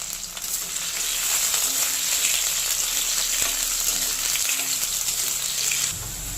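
Vegetables such as bitter gourd, potato and pointed gourd frying in hot oil in a pan, a loud continuous sizzle with occasional stirring scrapes, no voices.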